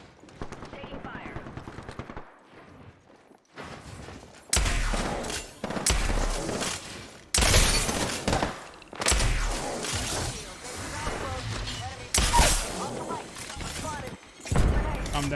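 Gunfire crackles in Apex Legends, several loud bursts of rapid shots separated by short quiet gaps, with impacts and a voice speaking between them.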